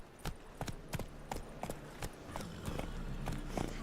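Hooves of Roach, a horse in a video game, clip-clop in a steady walking rhythm, about a dozen distinct clops over a low ambient bed, fairly quiet and evenly paced.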